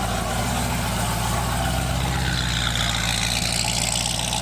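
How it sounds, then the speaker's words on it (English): A Corvette ZR1 with a choppy exhaust idles nearby, a steady loud low rumble with an uneven, lumpy pulse running alone throughout. "Got a real choppy ZR1 right here"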